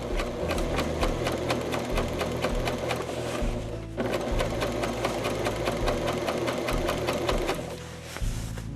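Sewing machine stitching a rolled hem with a scroll-shaped hemmer foot, a steady fast mechanical whir with rapid regular needle ticks, running close and continuously with a brief slowdown near the end.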